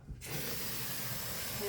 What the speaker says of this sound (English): And then I put in some water.